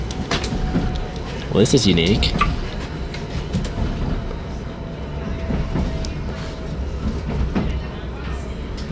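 Passenger train running on rails as it approaches its terminus at Great Yarmouth, a steady rumbling interior roar that carries on throughout while a person talks over it.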